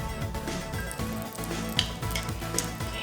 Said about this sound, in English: we're just gonna butter it up and toast it on the pan